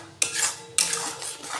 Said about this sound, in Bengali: এটা আমি ভালো করে গলার অপেক্ষায় আমি এটা নেড়ে নেব।